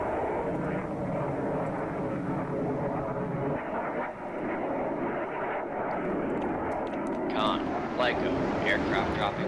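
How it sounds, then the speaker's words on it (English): Aircraft launching from the Nimitz carrier in the Cold Waters video game, a sustained engine roar rising and shifting steadily, with a few faint radio-like beeps near the end. "aircraft ready to launch"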